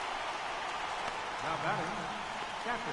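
Rain falling in MLB The Show 18 baseball game, a dense, steady hiss of rain on surfaces with faint crowd or voice murmurs mixed in.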